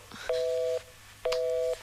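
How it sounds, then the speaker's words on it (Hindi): Two steady electronic telephone tones, each about half a second long and separated by a short gap, signal a call that has been cut off. The beeps are clear and moderately loud, with no talking over them. "फोन कट गया।"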